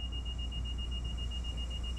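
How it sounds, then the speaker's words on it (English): A steady high-pitched buzzer alarm in Train Sim World 4, droning continuously and evenly at moderate level over a low rumbling cab background for the whole stretch. "This is a well-known issue, folks, so just ignore this buzzer."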